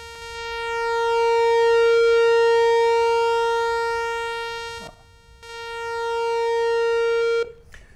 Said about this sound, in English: You can hear the sound get real thin as the pulse actually gets real thin.